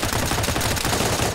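Rapid, dense bursts of gunfire from the video game DayZ, a continuous loud volley of rounds packed tightly together with no pauses across the whole moment.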